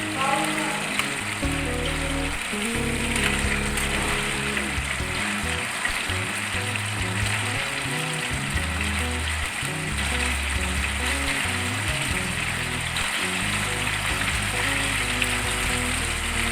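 Beef kababs fry on a tawa with a steady, close crackling sizzle that continues throughout, while a voice talks over it in the background.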